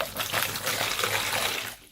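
Water pours into a bowl of paper for a homemade paper hammer, a short, loud and close rushing splash that lasts under two seconds before cutting off.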